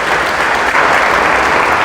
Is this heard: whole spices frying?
no